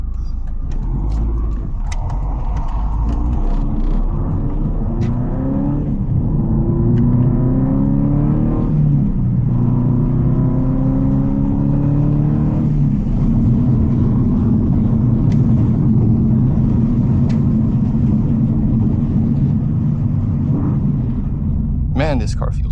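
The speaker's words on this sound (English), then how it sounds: "Subaru WRX STI GC8 version 6 limited type RA." A 1998 Subaru WRX STI GC8 Version 6 Limited Type RA accelerates hard through several gears, each pull rising in pitch before a shift drops it back, heard loud from inside the car on a Japanese road.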